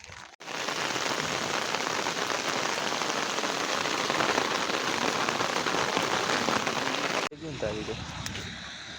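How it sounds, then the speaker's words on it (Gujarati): Heavy rain pours onto a flooded village street, a dense, steady hiss of drops on water and hard surfaces, loud and unbroken, then cutting off abruptly near the end to quieter outdoor ambience. "પાછો વરસાદ ચાલુ થઈ ગયો"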